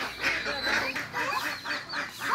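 A free-ranging village desi hen in rural Bangladesh squawks and cackles loudly in repeated harsh bursts while being struck, close and mostly alone with little talk.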